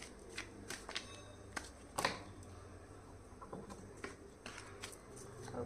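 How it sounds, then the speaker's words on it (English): Tarot cards shuffled with a crisp, riffling flutter, several quick bursts of soft papery snaps and slaps at close range, no voices. "Okay, last shuffle."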